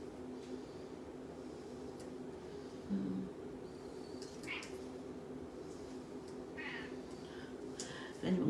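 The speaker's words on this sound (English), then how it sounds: "If anyone can hear the cat." Indoor house cat meowing, a few short faint cries spread out against a quiet room with a low steady hum and some soft handling noises.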